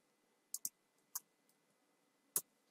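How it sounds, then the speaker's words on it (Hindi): A computer keyboard tapped during coding work, giving a handful of isolated, crisp keystroke clicks, two close together and others spaced apart, quiet against near silence. "तो यहाँ पे हम टाइप करेंगे इमेज व्यू"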